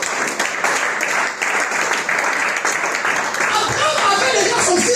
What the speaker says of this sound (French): On va l'applaudir pour la gloire de Dieu.